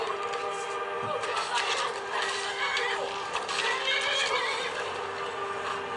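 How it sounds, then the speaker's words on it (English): Neighing and hoof clip-clops from a horse in a video game, sounding continuously at moderate level, with a voice speaking briefly over the game audio. "Go horse."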